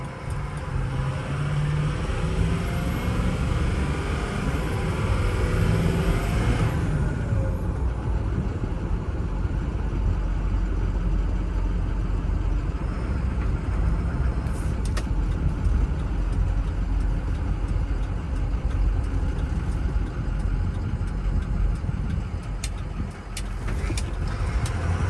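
A Ford F250 single cab with a 6.0 Powerstroke diesel engine runs steadily nearby, a continuous low rumble with broadband roar and a faint high whine fading early, no talk over it.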